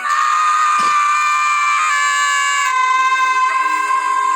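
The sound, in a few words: group screaming together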